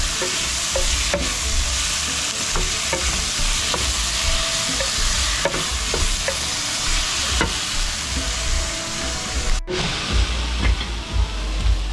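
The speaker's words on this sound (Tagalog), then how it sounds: "Konting gisa ko lang itong ulo ng salmon" Salmon heads, cut into pieces, sauté with tomatoes in a pan, giving a steady loud sizzle with scrapes and stirs from a utensil throughout, plus a sharp knock near the end.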